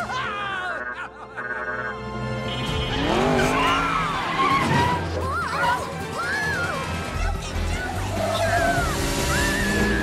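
Race cars launching at the start of a video game race, with revving engines, tire squeals and crash effects layered under music and voices, loud and busy throughout.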